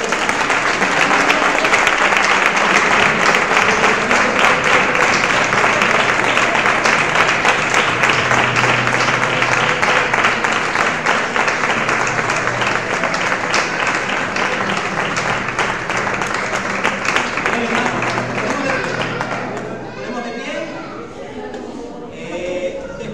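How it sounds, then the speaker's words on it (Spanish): A church congregation claps steadily and loudly for about twenty seconds, a dense sustained applause that thins out near the end. "Vamos a dar un aplauso al Señor, hermano, que es muy bueno."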